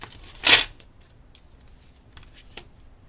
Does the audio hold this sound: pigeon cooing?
no